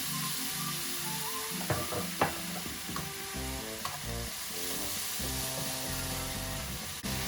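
Bok choy stir-fries in a hot pan with a dense, steady sizzle as soy sauce goes in, and a few sharp clicks of a spoon or spatula rise above the frying hiss.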